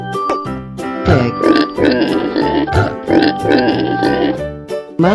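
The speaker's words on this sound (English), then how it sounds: "pig" A pig in a 3D animal video game grunts and oinks in a continuous, loud stream of snorting noises layered over game music.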